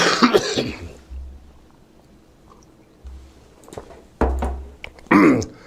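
Several harsh coughs and throat-clearing bursts come from a nearby man with a lingering cough, separated by quiet pauses, with a low rumble in the background.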